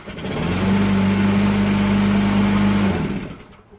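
A Toro Wheelhorse Recycler riding mower with a Briggs 8HP engine runs close by with a loud, steady drone that holds for a few seconds before winding down and fading out.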